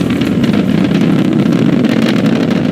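SpaceX Falcon 9 rocket engines roar during the Inspiration4 launch as the first stage throttles down, a loud, steady broadband rumble with no break.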